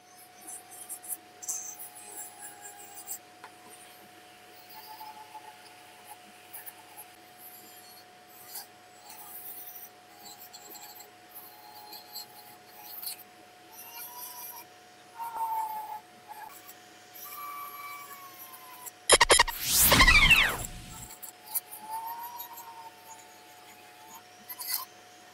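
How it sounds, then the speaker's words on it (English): A small flap disc sander smooths a hand-carved wooden feather, heard as faint scratchy rasping through most of the stretch, then a loud, abrasive whirring burst lasting about two seconds near the end. "I'm going to sand this a little bit with my disc sander, my little flap sander that I've got"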